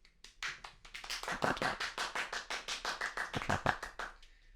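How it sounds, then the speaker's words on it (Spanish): A small audience claps for a guest, with rapid rhythmic hand claps that build quickly, hold steady and loud, then taper off near the end. "Aplausos para él."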